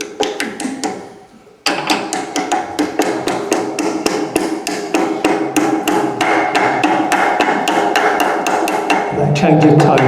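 Steady, rapid hammer blows ring out close and loud, one after another in a regular rhythm after a brief pause near the start.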